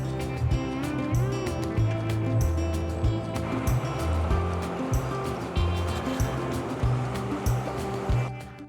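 River water rushing steadily beneath a bridge near a rail crossing in the Speyside countryside, a continuous broad wash of flowing current that stays loud and close throughout, with faint background clatter.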